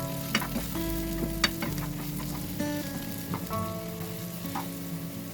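Chopped onions sizzle and crackle in a hot pan, with scraping stirs and occasional sharp pops, close up and steady.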